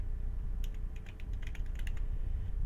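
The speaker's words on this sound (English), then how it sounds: "I've got a keyboard that I think might be broke. Because as you see when I'm typing" Rapid clicks and clatter of typing on a faulty computer keyboard, a quick burst of close keystrokes over a low steady background hum, with no talk.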